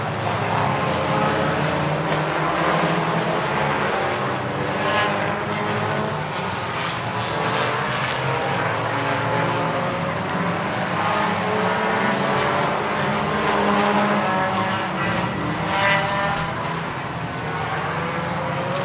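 Race cars roar around the track at the Daytomah 200, a continuous loud engine din with overlapping cars surging and passing close by in waves, carrying on steadily throughout without talk.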